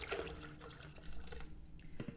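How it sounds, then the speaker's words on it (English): Water poured into honey to make a blackberry apple mead, a short splashing, gurgling pour close by, with no voices. "now I'm going to add some more water to that honey to mix up even further"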